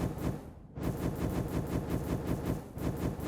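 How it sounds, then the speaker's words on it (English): Rapid gunfire from a one-handed pistol in the game Starbound, a steady, fast string of shots running nearly continuously with one short gap, loud and with no voice over it. "It's just a one-handed pistol that, shoot, it does 0 damage."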